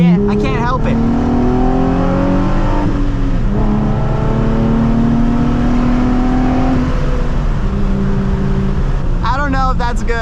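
A Nissan 350Z accelerates hard at full throttle, its loud engine note climbing steadily, dipping briefly around a gear change, then rising again for several seconds.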